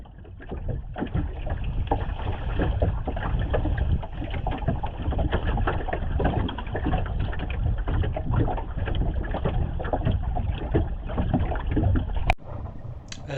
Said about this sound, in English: I just really love the chuckling sound that Tilly makes with the clinker hull in these calm conditions as she starts to pick up a bit of speed